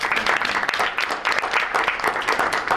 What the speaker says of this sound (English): How about we give everybody a round of applause?